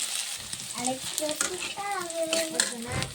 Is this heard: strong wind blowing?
no